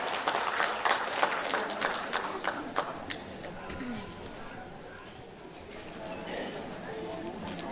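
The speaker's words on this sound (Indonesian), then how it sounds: "Beri tepuk tangan sekali lagi untuk Pak Ai yang telah membawakan puisi Pak Propius yang begitu ekspresif." An audience at a Sundanese poetry reading in Purwakarta claps for the first few seconds, a dense patter of hand claps that thins out into crowd murmur and room noise.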